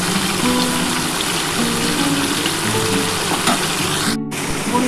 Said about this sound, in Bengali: আমি এই মাছগুলো এবার ভেজে নেব